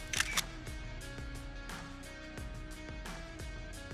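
A DSLR camera shutter clicks several times at a quiet level, sharp snaps spaced about half a second apart, with no talking.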